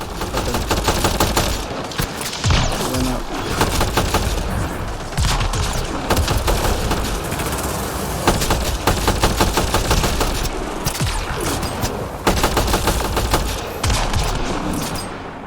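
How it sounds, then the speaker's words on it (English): Rapid automatic gunfire and scattered single shots from the video game Mass Effect Andromeda, loud and dense bursts repeating throughout with a few booming hits. "Look at how I'm shooting."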